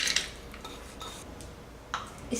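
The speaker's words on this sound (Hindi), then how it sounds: "इसमें मैं डालूँगी दाल को" Soaked toor dal goes into a metal pressure cooker for sambar, giving a few faint metallic clinks and scrapes at irregular intervals against quiet background.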